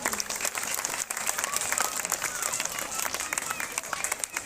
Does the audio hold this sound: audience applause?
yes